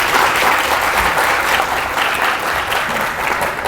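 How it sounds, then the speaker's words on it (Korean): Dense, steady applause from a conference audience at PyCon APAC 2016 fills the room, a continuous wash of many hands clapping with no speech over it. "큰 박수 부탁드리겠습니다"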